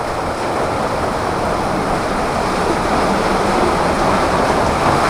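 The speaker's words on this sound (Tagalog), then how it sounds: "So wala pa rin tigil ang ulan dito." Heavy rain pours without letup during Typhoon Carina, a loud, dense, continuous roar with no breaks.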